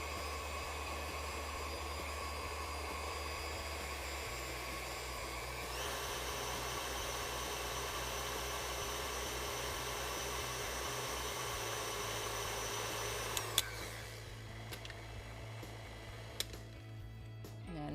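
Stand mixer with a beater running through peanut butter banana brownie batter: a steady, even motor whir holding on for many seconds, then cutting off near the end, leaving a few soft knocks and clatter.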